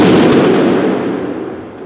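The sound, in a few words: Seekins rifle firing Hornady ammunition at target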